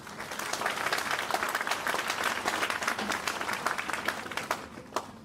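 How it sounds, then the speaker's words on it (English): Steady, full audience applause in a university lecture hall welcoming a guest speaker, continuous dense clapping throughout with a few louder claps near the end. "I humbly request everyone to join me in warmly welcoming our distinguished guest with a big round of applause."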